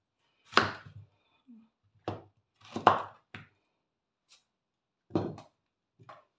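A knife chops through firm chayote on a cutting board in a few separate, irregular strokes, close and clear in a quiet room.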